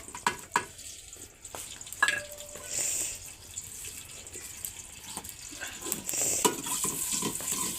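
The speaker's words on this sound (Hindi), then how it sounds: "ये जो ये प्याज कटे हुए हैं जी, ये मैंने प्याज डाल दिया" Chopped onions frying in ghee in a pan, with a gentle sizzle under sharp utensil clinks and scraping, plus a brief running-water hiss in the background, no speech.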